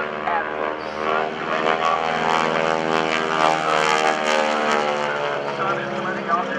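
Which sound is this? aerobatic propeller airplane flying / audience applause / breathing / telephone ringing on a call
aerobatic propeller airplane flying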